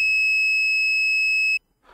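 Arduino rain sensor module (FC-37/YL-83) with its buzzer sounding: a loud, steady electronic tone held for about a second and a half, then cut off abruptly, followed by a brief faint rustle.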